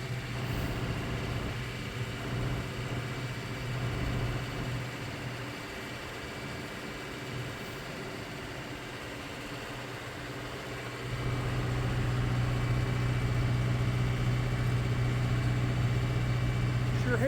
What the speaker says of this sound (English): I'm going to get in the tractor and get busy.